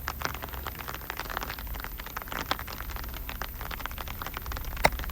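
Steady rain falls on a golf course, a dense continuous patter of drops with scattered sharper taps, heard alone without talk.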